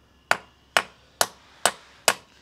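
Five sharp, evenly spaced metallic blows from a big lump hammer, struck while fitting a rear limited slip differential into a kit car, each ringing briefly and fading before the next, close and loud with no talk.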